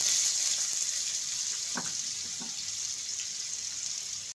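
Potato pieces go into hot mustard oil in a kadai, giving a steady close sizzling hiss with a few soft clatters as pieces drop in, with no talking.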